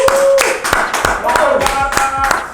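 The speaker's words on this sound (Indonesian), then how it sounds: "Kita tepuk tangan dulu." Close, sharp hand claps in a quick irregular rhythm, about ten strikes, with a voice and sung tones running underneath.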